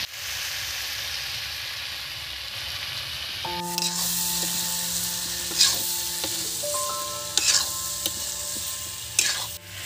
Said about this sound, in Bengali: কীভাবে শুধু কষে নিচ্ছি